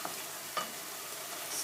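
Sesame seeds roast in a pan while being stirred for a brinjal tomato chutney, giving a faint, steady dry sizzle with one soft scrape partway through, heard alone.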